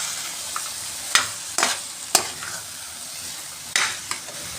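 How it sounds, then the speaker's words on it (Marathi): Grated carrot halwa is stirred in a hot pan, giving a soft continuous sizzle broken by a few sharp scraping strokes of the spoon against the metal. "आता हे आपण हलवून घेत आहोत."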